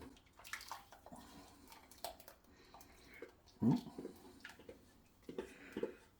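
Beef stew and sausage casserole mixture is poured into a casserole dish, giving faint wet sloshing and splashes with a louder splat midway, quiet and close with no talk.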